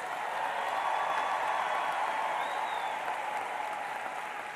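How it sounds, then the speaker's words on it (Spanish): Sustained audience applause and cheering for Fidel during a live Venezuelan television broadcast, a dense steady wash of clapping from a large crowd, with a faint whistle-like tone rising briefly near the middle. "Vamos a enviarle un aplauso a Fidel y una bulla."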